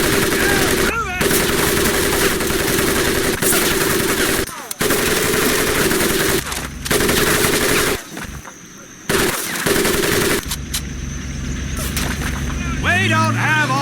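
Machine gun fire rattles in long sustained bursts across a Marine boot camp mud pit in Medal of Honor Pacific Assault, loud and near, with brief gaps of quieter ambience and faint voices underneath.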